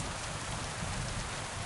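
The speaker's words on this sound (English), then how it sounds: "So the rain is enough noise to" Steady, dense rain hiss falls without a break in the medieval open-world game Kingdom Come Deliverance 2, an even wash of drops with no voices over it.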